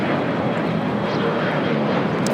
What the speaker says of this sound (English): El Salvador livery coming in from Guatemala City in A320, touching down here on the south side.